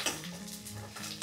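Tempering seeds of chana dal, cumin and mustard sizzle in a pan for a broccoli curry, with a brief metallic scrape of a spoon against the pan over the crackling.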